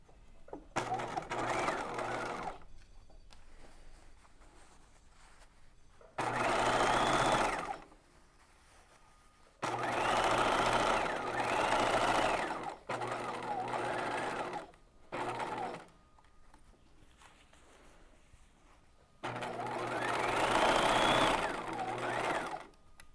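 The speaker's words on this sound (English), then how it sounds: "we are going to sew from the circle to the center back" Domestic sewing machine stitching bodice pieces from the circle mark to the center back, several loud bursts of rapid whirring separated by quiet pauses, close up.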